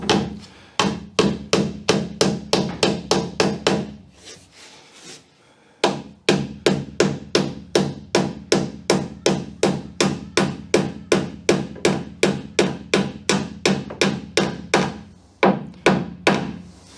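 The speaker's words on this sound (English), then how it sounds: "I'm just going to tap in a piece of stainless steel tube so that this hole doesn't get worn" A hammer taps a stainless steel tube into a hole with quick, evenly spaced metallic blows, dozens in a row, pausing briefly before resuming the same steady rhythm, close and loud.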